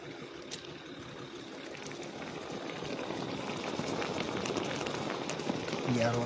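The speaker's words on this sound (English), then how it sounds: "Steamers going off." Steam vents hissing and bubbling up from a boiling hot road surface outdoors, a steady broadband rush that builds slightly louder over the span, with faint voices in the background.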